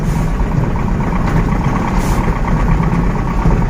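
A ZIL-130 truck engine runs steadily at a low rumbling idle after engine repair, loud and close, with no voices.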